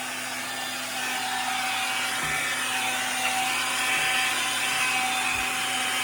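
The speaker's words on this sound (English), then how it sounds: "This turns a lot nicer than a lot of vacuums, so I'm able to kind of maneuver it." A vacuum cleaner pushed and steered under a table gives a steady, close whirring roar for the whole stretch, with a few low thumps as it bumps around.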